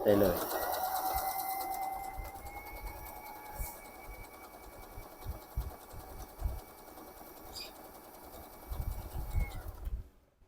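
A Janome portable sewing machine stitches with a steady, continuous mechanical whir and rapid needle clatter for about ten seconds, close by, stopping abruptly near the end.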